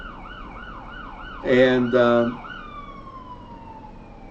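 An emergency siren wails in a repeating rising sweep, then a loud two-tone horn blares twice before the siren fades off into the distance. A faint voice is briefly heard.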